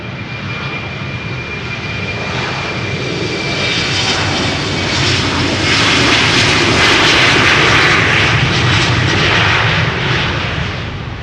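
A KLM jet bound for Belgrade roars down the runway on takeoff at Amsterdam Schiphol, a loud, broad engine rumble that swells and peaks midway before easing slightly, heard up close with no voices.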